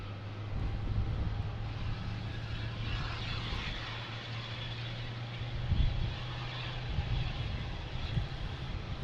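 An American Airlines Embraer E-175 jet passes at Boston Logan as a faint, distant rumble under a low steady hum, swelling slightly at moments.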